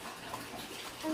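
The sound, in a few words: water pouring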